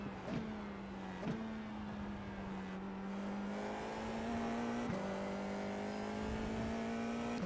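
A sim-racing FIA F4 car's engine drones at Laguna Seca, holding a steady high note with brief dips at gear shifts and a near, constant buzzing tone while accelerating out of a corner.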